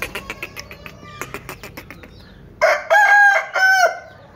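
An aseel rooster crows at a Multan poultry market, with a long, loud, strained call rising and breaking into several wavering segments, preceded by a string of sharp rhythmic clicks or taps.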